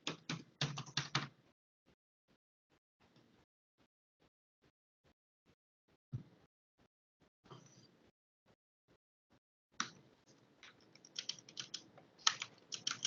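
Keystrokes on a computer keyboard as an email address and password are entered, with dense bursts of rapid typing at the start and end and sparse single taps between, close and fairly quiet.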